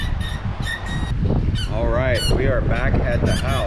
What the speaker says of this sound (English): I don't think we own one dog toy that does not squeak.